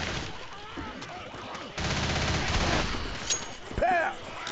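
Gunfire in Left 4 Dead 2 during The Parish campaign, a dense, sustained burst of rapid shots over game noise, with a voice briefly heard near the end.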